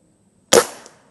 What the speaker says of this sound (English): I'm going to shoot another group at the top right and see how it does.